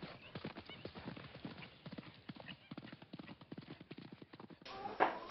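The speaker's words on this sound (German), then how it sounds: "Hier galoppiert der amtierende deutsche Meister." A galloping horse, the reigning German champion in horseback archery, pounds out quick, rhythmic hoofbeats at a steady pace. The hooves ring clearly throughout, and a brief louder burst comes near the end.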